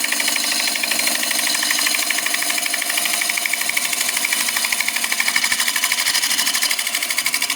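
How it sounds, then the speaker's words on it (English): A cutting tool works continuously as it is twisted clockwise and counterclockwise, giving a steady, loud, rapid chattering buzz with a fast repeating pulse and no talk. "while I'm cutting, what I'm doing is I'm rotating the tool clockwise and counterclockwise"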